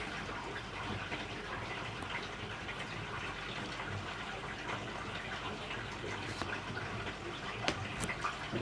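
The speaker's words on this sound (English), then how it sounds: "Sounds like someone's taking a shower upstairs." A shower runs upstairs, heard through the building as a steady muffled hiss of water that carries on unbroken and fairly faint in the background, with a few small knocks and clicks over it.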